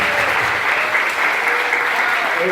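A church congregation applauds steadily to acclaim God, with dense, continuous clapping from a crowd filling the whole stretch at an even, loud level.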